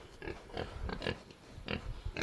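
Pigs grunting in short bursts at a pen where pigs are being sold, several close, loud snorts spaced irregularly over a low background hum.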